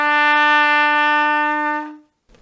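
A single E on trumpet, second valve down, held steady and bright for roughly two seconds in a beginner warm-up, then tapering off into a short quiet shuffle.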